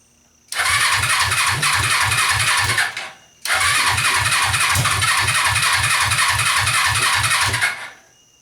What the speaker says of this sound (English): I'm going to try and constantly be revving it to see if that works.